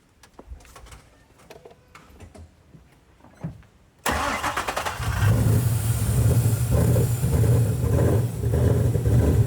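Ford Boss 302 Mustang V8, rebuilt after being called unfixable, cranks over and catches with a sudden loud roar, then runs at a steady, rough, throbbing idle close by after a few quiet clicks and knocks.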